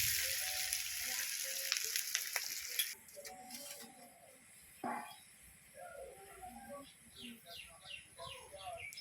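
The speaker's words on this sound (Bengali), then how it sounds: "পেঁয়াজ দিয়ে দিলাম, তেলের মধ্যে দিয়ে খুব সুন্দর করে নেড়ে চেড়ে ভেজে নেব।" Onions frying in oil while being stirred, a faint hiss for the first few seconds, followed by birds chirping nearby and some speech.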